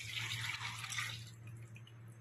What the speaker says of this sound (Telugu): కొంచెం వాటర్ కలుపుకుందాం.